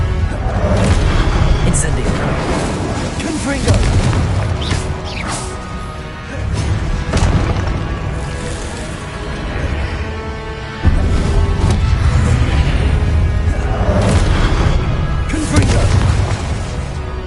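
Blasting-spell explosions from a Harry Potter video game, repeated deep booms with whooshes and crashes in steady succession, loud and dense, with spoken voices in the mix.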